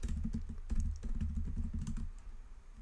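Computer keyboard keys tapped rapidly and steadily while someone writes Python code for a password strength checker, with close, crisp clicks over a low rumble.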